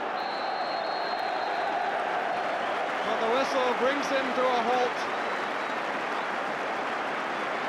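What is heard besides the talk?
football crowd applause at half-time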